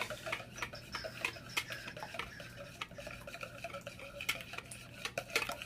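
Eggs for an omelet being mixed in a bowl with a utensil, heard as steady, rapid clinking and tapping against the bowl, close and fairly quiet, with no talking.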